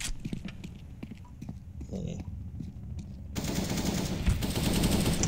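Rapid bursts of automatic gunfire spray in a Counter-Strike: Global Offensive match, sharp repeated cracks that thicken into a dense barrage, while players talk over it.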